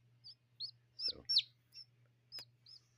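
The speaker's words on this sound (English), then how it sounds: "Little baby bird." Newly hatched hybrid chick peeping, a series of short, high, thin peeps in uneven rhythm, close and quiet, with a faint low hum and a brief handling rustle.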